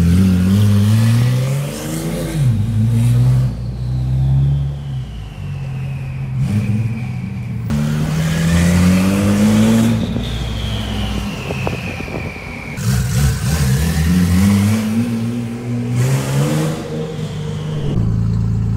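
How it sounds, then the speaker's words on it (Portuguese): A turbocharged car engine revs up and down repeatedly with a rising turbo whine, loud and close, in several surging bursts with no talking. "Pra galera ouvir a turbina."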